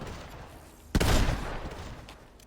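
The Chaos Reloader gun, styled as the Dark Voyager's Obliterator, fires in Fortnite with a single loud, sharp blast that decays into a rumbling tail, standing alone over faint background game noise.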